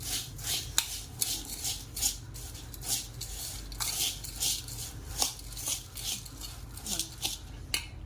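Bhel with chopped tomato, onion and coriander being tossed in a steel bowl, a steady run of scraping, clinking spoon-on-metal strokes at close range.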